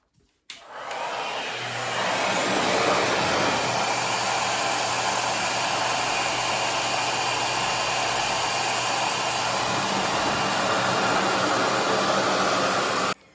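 A RevAir hair dryer runs steadily drying long hair, its loud, even airy roar holding constant for about twelve seconds after a brief start, with a low hum beneath.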